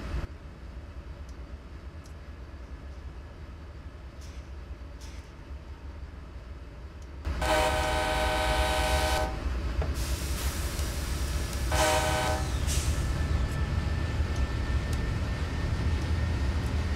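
Diesel locomotives pulling away from Oroville Yard in Train Simulator 2016, a low engine drone that jumps to a loud, sustained roar halfway through, with two long horn blasts over the rumble.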